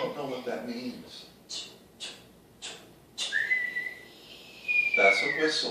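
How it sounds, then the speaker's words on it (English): A person whistles a long rising-then-falling tone, preceded by short whistled bursts and breathy pulses, fairly close and clear, with brief vocal sounds around it. "That's a whistle"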